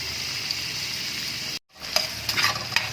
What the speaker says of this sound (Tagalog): Uunahin ko na itong patatas at carrots na igisa.